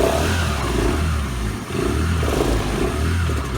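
A Honda Lead 100cc scooter engine revs steadily and loud up close, its buzzy drone holding for several seconds with a brief dip midway, no talk over it.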